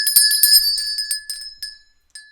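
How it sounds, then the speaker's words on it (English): A small bell is rung rapidly about a dozen times, bright and close, the strikes thinning out and ringing away into silence before one last faint ding. "Ring that bell."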